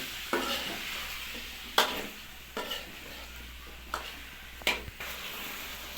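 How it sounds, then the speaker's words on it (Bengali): Bottle gourd and pumpkin stirred in a pan with a little water, a spoon scraping in several distinct strokes over a steady low sizzle, close and moderately quiet with no talking. "হালকা জল দিয়ে নেড়ে নিতে হবে।"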